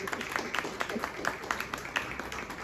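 An audience claps for a guest being called to the stage, the individual hand claps distinct and moderately loud with a slightly uneven rhythm, while a voice speaks faintly underneath.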